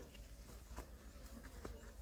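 Honeybees buzz around a hive in spring, a continuous soft hum with faint scattered ticks and pats close by.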